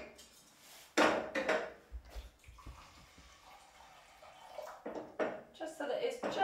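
Water pours into a pot of quinoa with a splashing, trickling rush, set against clinks of a pan and a few sharp knocks in a quiet kitchen.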